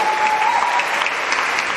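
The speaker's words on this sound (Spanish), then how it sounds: "Den un fuerte aplauso al Espíritu de Dios." Church congregation applauding loudly during a Spanish-language Holy Hour, a dense, steady wash of many hands clapping together for the whole stretch, close and full, with no talk over it.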